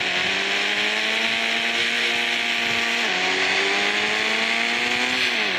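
A car engine drones in the Indian Bikes Driving 3D video game, a loud, steady synthetic hum that holds one pitch and then shifts slightly twice, with nothing else heard.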